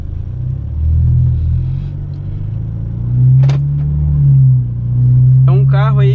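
A 2016 BMW 320i Sport 2.0 with a Stage 2 tune idles with a low, steady rumble that swells slightly now and then, with a brief click and a short voice over the engine.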